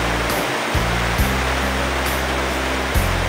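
Heavy rain pours steadily on an island, a dense continuous wash with a few brief louder splashes and a low rumbling hum underneath.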